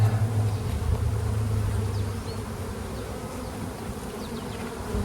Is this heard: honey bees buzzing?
yes